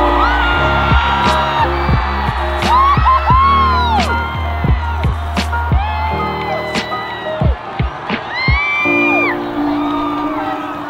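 A huge crowd roars at a marathon finish line as the runner crosses in under two hours, with loud whoops, shouts and rising cheers layered over a continuous din.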